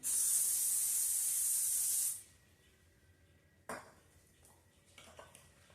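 A continuous cooking spray hisses for about two seconds into a cake pan, then stops, followed by a few quiet metallic clinks of the pan.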